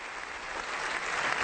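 The German parliament gives Pope Benedict XVI a standing ovation, heard as a brief, steady wash of many hands clapping at once, loud and unbroken.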